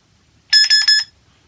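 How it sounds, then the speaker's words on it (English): A home security system alarm sounds as it is switched off, giving three quick, loud, shrill beeps in a tight even rhythm, close and clear against a quiet room. "Let's turn off the alarm."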